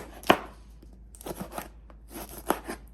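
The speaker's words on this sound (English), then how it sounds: "Slice it all the way to the end there." Hot peppers being sliced into rounds with a knife for Guyanese pickled peppers, a sharp close chop followed by clusters of quicker cuts against a board, crisp and alone without talk.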